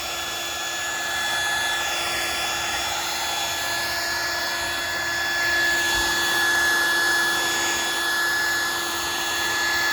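A heat gun blows steadily while warming a painted steel part on a Honda TRX 450R restoration, a continuous close airy whine with a high tonal hum that holds level throughout.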